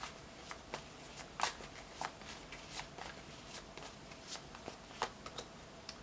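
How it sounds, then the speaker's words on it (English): Two decks of tarot cards shuffled by hand, giving quick soft riffles and crisp snaps repeating in an irregular rhythm, close and faint. "Let me shuffle I use 2 decks."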